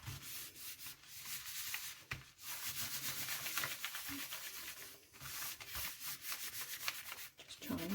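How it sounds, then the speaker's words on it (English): Paper rubbed by hand over a stencil on a homemade gelli printing plate, a continuous soft scratchy rubbing with uneven strokes, quiet and close. "Just try and rub in that where that stencil is."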